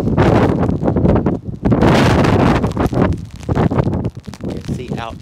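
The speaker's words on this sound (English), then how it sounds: "so windy" Strong wind gusting outdoors in Scotland, loud and constant, buffeting the microphone, with people talking and exclaiming over it throughout.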